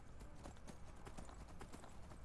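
Horse hooves clip-clop in steady rhythm while riding in the video game Skyrim, a quick, even trot heard clearly against a low ambient background.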